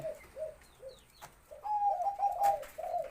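A male spotted dove from a breeding pair gives soft, repeated coos: a few short notes, then a brief gap, then a longer run of quick phrases, quiet and fairly near, with no voices.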